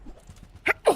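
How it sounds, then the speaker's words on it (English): Two sharp, loud bursts, a short one and then a bigger one, stand out after a stretch of quiet low rumble, consistent with a person's loud sneeze. "I'm very loud sneezing."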